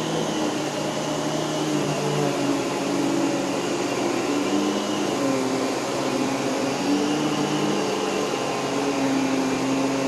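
A vacuum cleaner runs steadily on carpet, a Miele Callisto or Rainbow D4C SE, giving a continuous loud motor whine and airflow roar with slight pitch shifts as it moves, with no talking.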